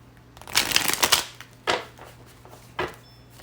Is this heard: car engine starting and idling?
no